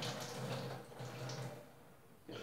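Thawed water from frozen acerolas pours out of a container in a home kitchen, a steady splashing trickle that runs for a couple of seconds before tapering off, heard alone without talk.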